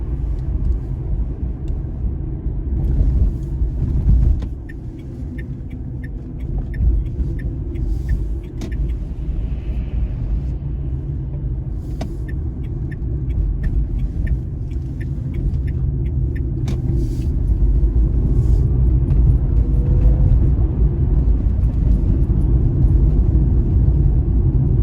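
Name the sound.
Dacia Spring electric car driving fast on motorway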